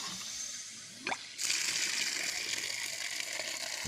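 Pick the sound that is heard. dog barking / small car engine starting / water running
water running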